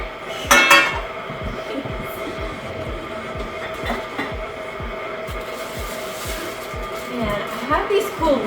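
Metal 8-inch cake pans clatter and clank against each other in a kitchen, with a loud burst early on followed by repeated lighter knocks and scrapes.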